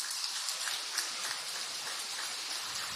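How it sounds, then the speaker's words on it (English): Steady rain falls at an outdoor kart racing circuit during a European championship weekend, a dense even hiss of drops on the surface with soft pattering, continuous and fairly close, no voices. "the rain continues to fall here"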